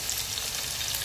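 Tomato and mbinzo caterpillars fry in a pan over the fire, giving a steady bright sizzle with no talking.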